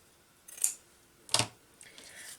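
Scissors snipping through lace for a coffee bag craft tag, two crisp close cuts about a second apart followed by a softer rustle.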